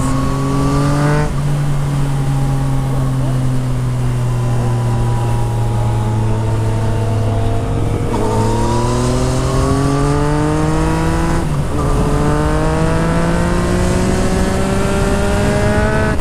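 A 2014 Yamaha MT-09 motorcycle with a full Akrapovic exhaust revs loud and close, its engine note rising and falling through several pulls with gear changes and popping from the exhaust.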